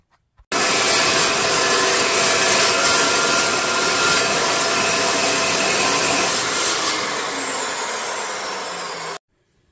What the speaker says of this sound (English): On the cold saw over there, we were just able to cut down and stop.